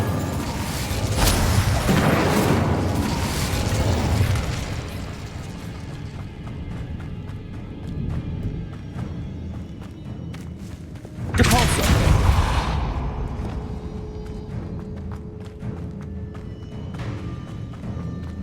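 Incendio fire spell scorching spider sacks in Hogwarts Legacy, with two loud whooshing fire bursts several seconds apart, each flaring then fading into a low rumbling game background.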